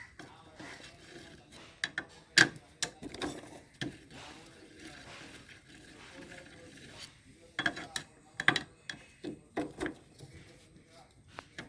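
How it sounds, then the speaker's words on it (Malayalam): A size 8 T-spanner ratchets and clicks in short metallic bursts as the clutch springs on a pump wheel are released, with quiet pauses between the clusters of turns. "ഒരു 8ൻ്റെ ടീ സ്പാനർ യൂസ് ചെയ്ത് ക്ലച്ചിൻ്റെ സ്പ്രിങ്ങുകൾ റിലീസ് ചെയ്യുക"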